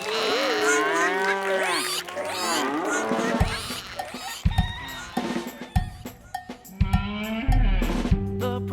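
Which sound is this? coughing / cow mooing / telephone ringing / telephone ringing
cow mooing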